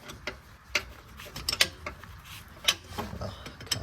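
A wrench ratchets on a wheel bolt at the axle of a 2007–08 Infiniti G35 sedan (V36), giving scattered short metallic clicks and clacks, close by, amid a quiet workshop background.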